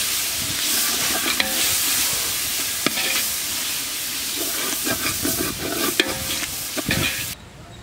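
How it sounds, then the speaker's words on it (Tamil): Ginger garlic paste stir-fried in a pan for a Tamil seeraga samba mutton biryani, a steady close sizzle with scraping stirring strokes and occasional sharp clinks of the spoon against the pan, no voices. "இஞ்சி பூண்டோட பச்சை வாசனை போகிற அளவுக்கு நம்ம இப்போ நல்லா வதக்கிக்கணும்."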